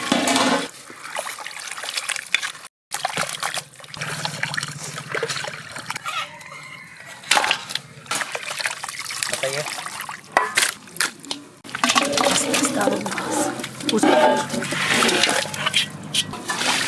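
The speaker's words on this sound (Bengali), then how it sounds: "মাংস কাটা হয়ে গেছে, পরিষ্কার করে ধুয়ে নেব।" Cut mutton being washed in water in a village kitchen, with splashing, pouring and trickling sounds in uneven bursts, fairly close and loud, broken by a short silent gap.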